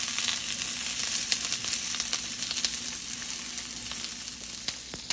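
Onion roasts in a pan for homemade mole, giving a steady, moderately quiet sizzle and crackle with a few sharper pops toward the end.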